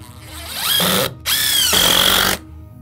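A power drill whirs in two bursts into a deck railing, the second longer, with its pitch rising as it bites, close and loud with a short pause between; the battery is running low.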